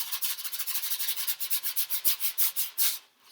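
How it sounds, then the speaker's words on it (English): A brush is pushed and swept across a bodhrán drum skin in a bossa nova pattern, making a rapid, even series of close swishing strokes, about twenty in all, that stop near the end. "Is this getting comfortable with pushing the brush against the skin"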